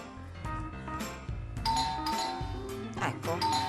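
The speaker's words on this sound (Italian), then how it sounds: "è anche suonato il campanello" A doorbell rings in a home kitchen with a clear ding-dong chime that repeats, ringing out over ongoing background music and voices.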